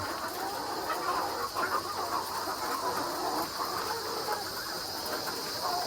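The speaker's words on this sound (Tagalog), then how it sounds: "So ito yung mga bago natin mga manok" A steady chorus of ready-to-lay chickens clucking fills the air, loud and continuous, with a hissy barnyard background and no clear talking.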